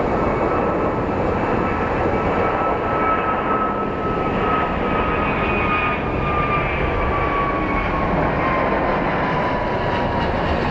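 An Airbus Neo jet airliner departs Phoenix Sky Harbor airport with a loud, steady, broadband engine roar that holds close and powerful throughout, with a faint rising whine beneath it.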